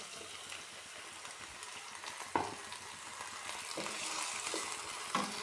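Salted brinjal pieces with curry leaves sauté in a pan for mezhukkupuratti, giving a low continuous sizzle broken by a few sharp utensil knocks and scrapes as the vegetables are stirred.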